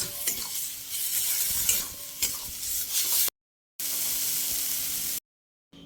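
Dried fish is sautéed in oil in a pan: a constant close sizzle with scraping stir strokes, broken by two abrupt silent cuts before the frying resumes.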